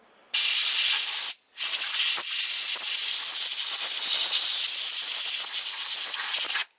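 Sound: blowing air out of a chainsaw oil system

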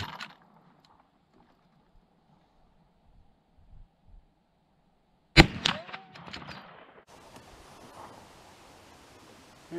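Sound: rifle gunshot from a Marlin 1893

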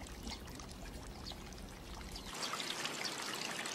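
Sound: washing up in a village riverside water channel

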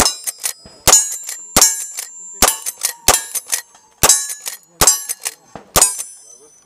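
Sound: gunshot from the shooter

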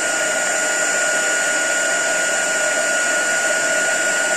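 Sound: heat gun heating embossing powder

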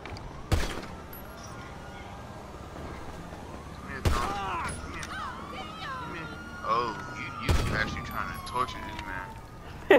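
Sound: shotgun gunfire in a video game

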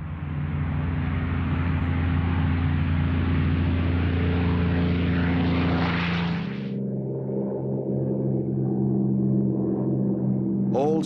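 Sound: Supermarine Spitfire fighter plane flying

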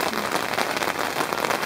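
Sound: heavy rain pouring down on a tent

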